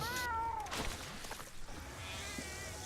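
A cat meows in a rising, drawn-out call near the start, followed by rustling and a steady background hum during a gaming stream.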